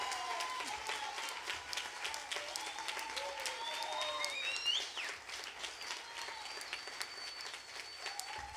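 Audience applause for a keyboard player at a live show with music, steady clapping across the whole stretch with some cheering, while a few voices and sustained tones sound faintly underneath.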